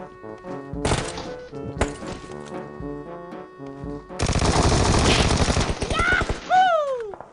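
Loud automatic gunfire rings out in PUBG Mobile on the Sanhok map: two short sharp bursts, then a long dense stretch of rapid shots, ending with sweeping whistle-like tones.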